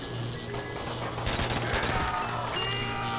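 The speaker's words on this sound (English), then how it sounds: "Trench gun. Now I can mow him down." Trench gun fire in Call of Duty: World at War Zombies, several loud close shotgun blasts and clattering bursts over a constant game background, with no talking.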